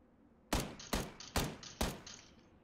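Four evenly spaced, loud gunshots from a rifle in the battle royale video game PUBG, each followed by a short echoing crack, with no talk over them.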